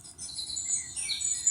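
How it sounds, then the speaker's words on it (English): Birds chirp and tweet in a steady high-pitched stream from a children's sound book, with overlapping calls that sound slightly electronic. "You can hear the birds chirping."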